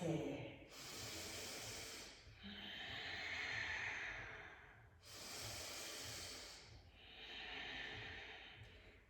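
Slow, deep breaths come and go during a pregnancy yoga pose, each long airy inhale or exhale swelling and fading in a steady rhythm, close and soft.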